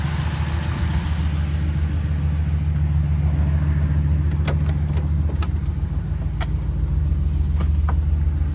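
A warmed-up turbocharged car engine idles steadily with a deep, even rumble, joined by a few brief ticks and clicks near the end.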